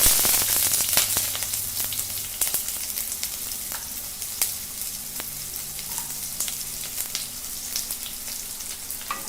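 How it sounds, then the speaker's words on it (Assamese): Two chillies and onion dropped into hot oil, a close, crackling fry with sharp pops and spits over a steady hiss that is loudest at the start and settles into continuous sizzling. "তেলখিনি গৰম হোৱাৰ লগে লগে ইয়াত জলকীয়া দুটা দি দিম। তাৰ লগে লগে পিঁয়াজখিনিও দি দিম।"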